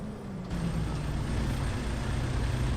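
A Kenworth truck in a farming video game rumbles with a low, steady diesel drone, its engine rising after an air-brake hiss near the start, continuous and close.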